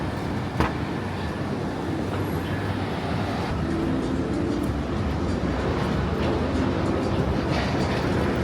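A Singapore metro train rumbles steadily and continuously at close range, a broadband roar of wheels on rails that runs alone without any talking.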